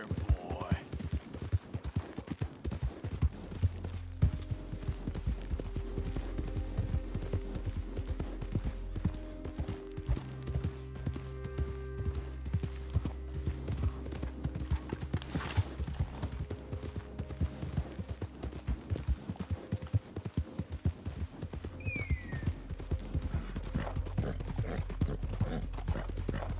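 Galloping horse hooves in Red Dead Redemption 2, a steady loud clip-clop rhythm running throughout over a low game soundscape with music, with occasional snorts or whinnies and a brief spoken voice.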